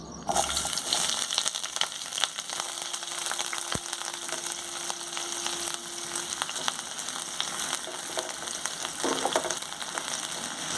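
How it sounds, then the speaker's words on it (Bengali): Chopped onion dropped into hot mustard oil gives a loud, continuous crackling hiss that holds steady throughout, close to the pan, with no speech. "তেলটা খুব ভালোভাবে গরম হয়ে গেছে। আঁচটা কমিয়ে খুব সাবধানে দিয়ে দেব পেঁয়াজ কুচি।"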